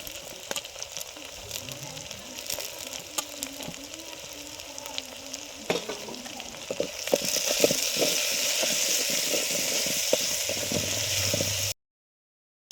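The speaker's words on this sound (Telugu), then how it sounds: "ఉల్లిపాయలు మగ్గుతున్నాయండి" Sliced onions sautéing in a pan for a mutton bones curry, a steady close sizzle that swells louder midway with scattered scrapes and clicks, then cuts off abruptly.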